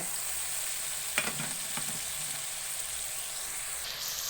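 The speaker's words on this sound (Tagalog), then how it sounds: "atong ilunod ang hipon" Shrimp frying in a pan with a little sugar, a steady soft sizzle and hiss throughout, with a couple of brief stirring scrapes near the start, and nobody speaking.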